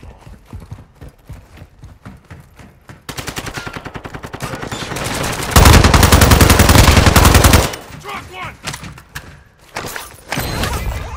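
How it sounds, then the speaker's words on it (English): Call of Duty gunfire: rapid machine-gun bursts and sharp shots in loud, dense volleys, swelling to a heavy sustained barrage midway before dropping back to scattered shots. "You are taking effective fire."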